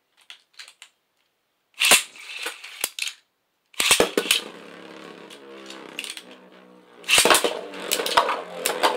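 Beyblade spinning tops clash in a plastic battle stadium, giving bursts of rapid metallic clattering and scraping split by short silences, ending in a loud burst finish.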